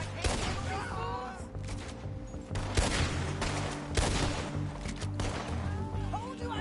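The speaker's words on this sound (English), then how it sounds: "Told you I could shoot a gun, didn't I?" Video game gunfire crackles in dense bursts of rapid shots with booming impacts, mixed with game music and character voices talking over the fighting.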